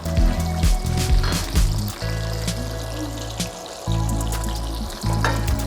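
Fish frying in hot cooking oil, a close, steady crackling sizzle with low humming tones underneath and occasional louder bursts of spattering.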